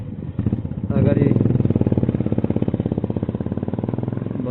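A motorcycle engine runs at a garage check during a ride from Burtibang to Rukumkot, chugging in a steady, close, rapid rhythmic putter after a brief rev-up at the start.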